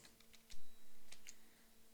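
A few quick keystrokes tap on a computer keyboard, faint and close, in short clicks followed by a brief pause and a couple more taps over a quiet hum.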